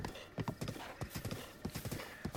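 Horse hooves clip-clop in a steady, fairly close rhythm as a spotted horse is ridden around in Breath of the Wild, with an occasional faint whinny and no talking over the hoofbeats.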